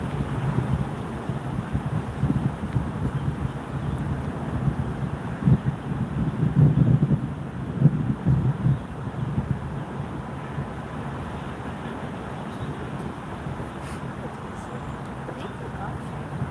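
A big gust of wind blows by a river, a steady loud rush with microphone buffeting that swells in the middle and then eases back to a constant roar.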